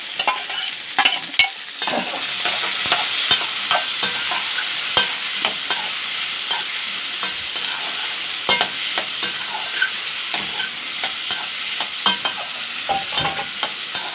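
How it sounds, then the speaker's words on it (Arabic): Fat and onions sauté in a pan for cooking green okra, a steady bright sizzle broken by frequent sharp clacks and scrapes of a spoon stirring, close and moderately loud. "احنا يا دوب بنشوحها كده وننزل عليها بالبصل، نشوحها كده"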